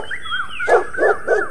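A dog gives three quick, sharp barks in a row, close and loud, following a brief whining yip.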